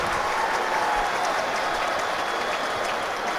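A football stadium crowd roars at the end of an NFL game, Bills at Colts, a continuous, broad wall of distant cheering and applause that holds steady throughout.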